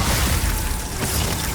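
Glacius ice spell cast in the Hogwarts Legacy video game during a troll fight, a dense crackling burst with a heavy low rumble that holds steady for about a second and a half, loud and close.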